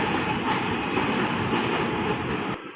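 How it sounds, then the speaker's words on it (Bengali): A train runs along the line right in front of a house, a steady, fairly loud roar of passing wagons that holds evenly, then cuts off abruptly near the end. "বাড়ির সামনে ধর ট্রেন যাইতেছে"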